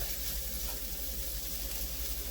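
Fatty bacon sizzles in its own rendered grease, a dense, even crackle with a steady hiss that holds without pause, close and moderately quiet.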